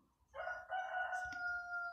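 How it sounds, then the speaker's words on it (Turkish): A rooster crows once, a long drawn-out call that rises and holds steady, fairly faint and heard alone without any talking. "bugün bu horoz da bir türlü susmadı"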